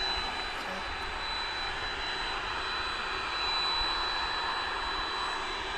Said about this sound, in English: here goes that 767